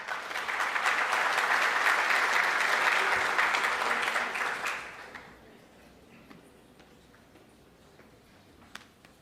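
An investor-meeting audience gives a round of applause welcoming the Cemig president, steady and full for about five seconds before cutting off into quiet room tone with a faint click.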